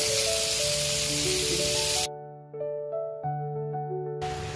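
Shrimp and snake gourd fry in a pan with a loud, dense sizzling hiss for about two seconds, then cut off abruptly, leaving only sustained musical tones that continue underneath.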